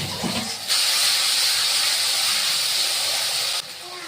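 Ginger garlic paste hits hot oil with browned onions in a pan, giving a sudden loud, steady sizzling hiss that holds for about three seconds and then cuts back down.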